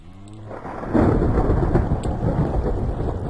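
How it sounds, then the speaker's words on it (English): Rain and thunder in the video game Minecraft: a low rumbling thunder roll swells into a steady, loud wash of rain that continues without talk. "it rains at the most obscure times in Minecraft"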